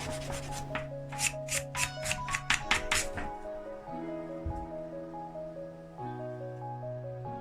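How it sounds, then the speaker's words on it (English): Wooden building blocks scraped with coarse 80 grit sandpaper to roughen their edges, a run of quick rasping strokes in a steady rhythm up close, with a low tonal hum steady underneath. "heavy grit sandpaper. I think this is actually a 80 grit, and just roughen up the edges"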